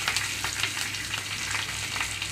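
Green chillies and curry leaves fry in hot oil for a spinach moong dal dish, giving a steady close sizzle with crackling pops and faint stirring, no voices.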